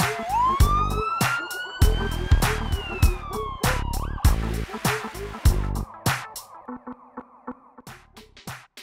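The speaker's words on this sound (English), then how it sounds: "ambulances are large vehicles with bright flashing lights and a loud siren" A loud ambulance siren wails and rises in pitch, cut through by repeated sharp pulsing honks or blasts, close and dominant throughout.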